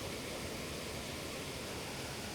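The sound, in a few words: creek waterfall rushing water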